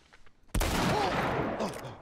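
A sharp, loud gunshot from The Last of Us Part I rings out close by and tails into a long, noisy echo, over quieter game ambience beforehand.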